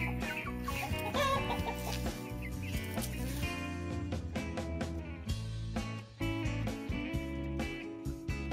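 Several chickens cluck and chatter continuously at close range, overlapping calls forming a busy, steady hum of poultry sounds.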